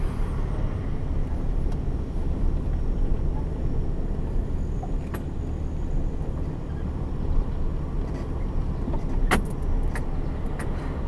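A vehicle rolls down a wooded trail toward a secluded handgun shooting range, its engine a steady low rumble throughout with a few faint clicks and rattles, no talking.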